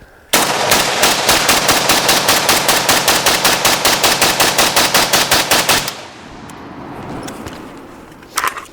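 An AK-47 rifle loaded with a ProMag magazine fires a long, rapid burst of about twenty-five loud, evenly spaced shots, then stops and leaves a ringing room tone with a faint clatter near the end.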